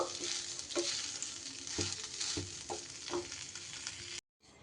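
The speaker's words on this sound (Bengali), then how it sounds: "এইবার খুব সুন্দর করে চালগুলোকে আমার ভেজে নিতে হবে।" Constant sizzle of rice grains frying in a pan, with several scraping strokes as they are stirred, ending abruptly in silence.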